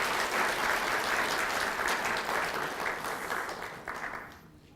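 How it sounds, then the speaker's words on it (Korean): Church congregation at a Sabbath service applauding to welcome a visiting pastor and his wife, a thick sustained wash of clapping that fades out near the end. "사모님이랑 같이 오셨는데 뜨겁게 또 박수로 환영해 주십니다."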